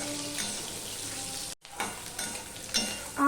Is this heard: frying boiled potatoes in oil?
yes